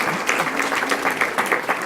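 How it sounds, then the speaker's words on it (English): Audience at the City Club of Chicago breaks into applause, a brisk burst of many hands clapping with uneven peaks, fairly close and lively for the whole short stretch. "Give yourself a round of applause."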